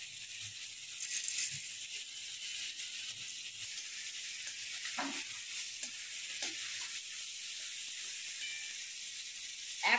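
Washed, fried lentils sautéed with masala in a pan for khichuri, giving a soft, even hiss of frying with a few faint scrapes of stirring, quiet and continuous without voices.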